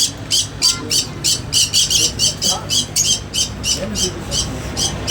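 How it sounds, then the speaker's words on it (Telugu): Lovebirds squawk in rapid, repeated shrill bursts in a pet shop, nearly a dozen in steady rhythm, close and loud over a low background hum. "ఈ లవ్ బర్డ్స్ అయితే భలే ఉన్నాయండి"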